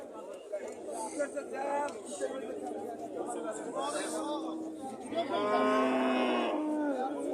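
A bull moos repeatedly at a busy cattle market in Kitob, its long, loud calls rising over steady crowd chatter and nearby voices.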